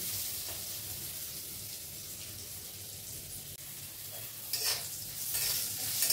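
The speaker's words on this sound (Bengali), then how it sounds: "দেখো করলাটা প্রায় আমার ভাজা হয়ে এসছে।" Sliced bitter gourd frying in a kadai, a steady nearby sizzle with stirring scrapes, growing louder and crackling more toward the end, with no talk.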